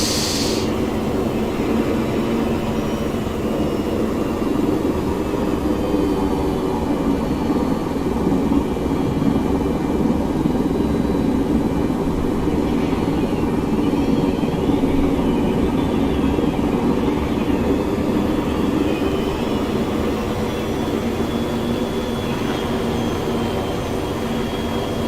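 Steady, dense engine drone of an aircraft in flight in Arma 3, heard alone at constant loudness throughout, with a faint whining tone weaving above the low roar.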